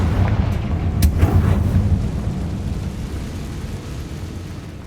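A Confringo fire spell from Hogwarts Legacy erupts with a loud, rumbling blast, followed by a sustained low roar that slowly fades, heard alone.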